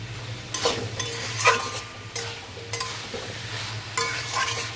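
Cabbage and prawns sizzling steadily in a pan, with a utensil scraping and stirring through them in several distinct strokes over a constant frying hiss.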